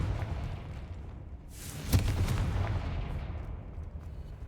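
A Confringo fire spell explosion in the video game Hogwarts Legacy, a sudden sharp blast that swells into a fiery rumbling whoosh and fades slowly over a low background rumble.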